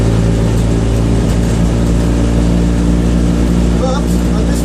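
Race-spec Citroen 2CV engine driving on a road, a loud steady mechanical drone with continuous engine hum throughout, fitted with a Weber carburettor.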